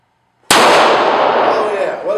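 A DoubleTap .45 ACP derringer fired once indoors from its ported top barrel: one sharp, loud, close crack with a metallic ring that decays over about two seconds.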